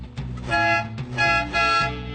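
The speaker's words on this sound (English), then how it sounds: "It also has a movie-accurate horn" Several short honks from a movie-accurate police car horn, loud and close, with a low engine rumble underneath.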